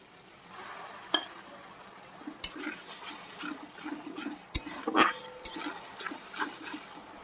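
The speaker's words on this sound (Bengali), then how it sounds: "টমেটোটা একটু ঘেটে দেবো মশলার সাথে একেবারে।" Tomato is stirred into spice masala in a pan for a Bhola fish curry, quiet sizzling under scattered spoon scrapes and sharp metallic knocks against the pan.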